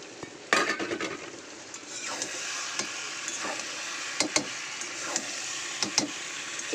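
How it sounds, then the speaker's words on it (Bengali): Taro stolons and fried shrimp frying in a pan, a steady sizzle broken by sharp clinks and scrapes of a spatula against the metal, close up with no talking. "ওর মধ্যে এবারে দিয়ে দেবো ভেজে রাখা চিংড়ি মাছগুলো, দিয়ে ভালো করে আর একটু ভাজা ভাজা করব"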